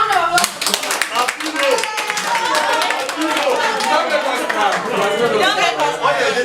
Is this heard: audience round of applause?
yes